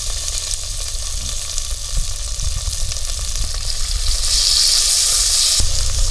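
Onions, coriander and curry leaves fry in a pan with hot oil, making a loud, continuous close sizzle and crackle that surges into a brighter, hissing burst near the end.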